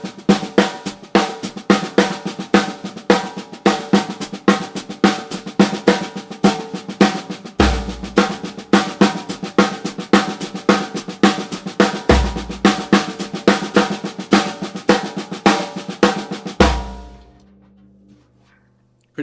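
Drums play paradiddle pairings of 4s and 2s, fast even stick strokes with regular accents and low kick thumps every few seconds, loud and close, ending in a ringing decay.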